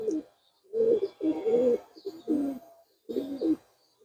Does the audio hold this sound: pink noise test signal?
no